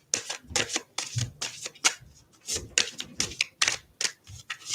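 Tarot cards being drawn and shuffled from a deck, a run of crisp papery flicks and slaps in uneven bursts, close and fairly quiet, with no talking.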